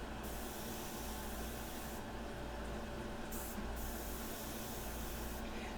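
Airbrush spraying India ink, a steady continuous hiss of compressed air held at an even level from start to finish, close and alone with no talking.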